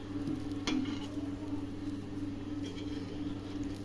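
Potato slices pan-fry on a hot pan with only a little oil, making a soft, steady sizzle and faint crackle beneath a low background hum, with one brief clink near the start and no talking.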